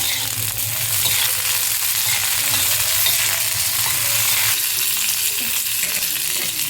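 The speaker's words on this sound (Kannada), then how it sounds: "ಹಸಿಮೆಣ್ಸಿಕಾಯಿ ಇಡೀ ಎಣ್ಣೆಗೆ ಹಾಕಿದ್ರೆ ಸಿಡಿಯುತ್ತೆ" Broken green chillies splutter in hot oil with a dense, continuous crackling sizzle that stays loud and even throughout, with no voices over it.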